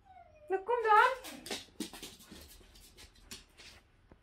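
A puppy whimpers at close range, giving a rising whine followed by softer, broken whines and snuffles as the sound fades.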